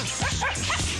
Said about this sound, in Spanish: La perrita ya viene a comerse el yogur.